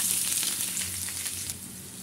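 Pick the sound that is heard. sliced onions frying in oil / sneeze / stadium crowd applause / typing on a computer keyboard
sliced onions frying in oil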